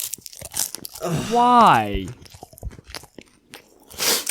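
A crunchy sound effect meant for punching fruit, a sharp biting crunch with crackling texture, surrounded by close talk and a drawn-out vocal exclamation.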